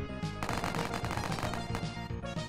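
Rapid gunfire in the Roblox game Dark Life, a dense, loud burst of repeated synthetic shots in quick succession, heard alone with no talking.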